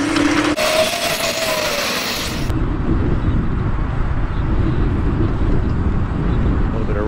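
Broadband road traffic noise rushes past a rider on an Emove Roadrunner electric scooter in slow city traffic, a steady loud wind-and-engine wash with a brief tonal whine early on and a bright hiss that drops away after a couple of seconds.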